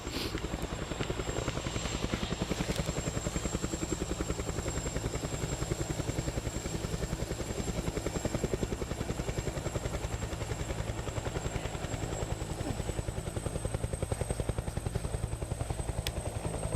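An Air Greenland helicopter idles before departure at the remote Greenland village of Ikerasak, its steady rotor chop and turbine whine continuous and close for the whole stretch, with no talk over it.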